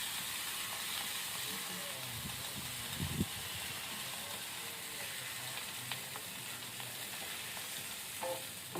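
Onion bonda (eerulli paddu) fries in oil on a village stove, a steady dense sizzle running throughout, broken by a few brief louder crackles and spatters near the start and end, no voices.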